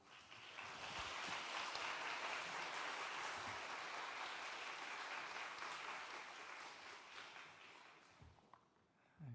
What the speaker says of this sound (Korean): 나오실 때 따뜻한 환영의 박수 드리도록 하겠습니다